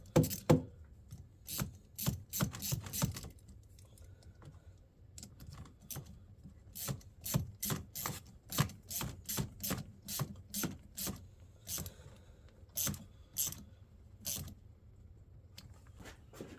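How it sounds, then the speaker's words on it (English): Hose clamps are tightened during an aftermarket gauge install, with a tool giving uneven runs of sharp metallic ticks and clicks, close by, with brief pauses between bursts. "Tighten down my hose clamps."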